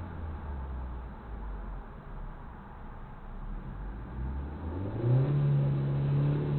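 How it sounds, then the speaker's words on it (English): A learner driver's car engine idles low, then revs up to a steady higher drone during a first driving lesson, heard from inside the car at moderate loudness. "So you got more revs anyway."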